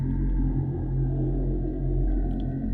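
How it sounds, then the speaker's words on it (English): A very deep chant sample pitched down nine semitones, a dense, sustained low drone with heavy rumbling bass and a murky wash above, held steadily throughout. "I pitched this down 9 semitones"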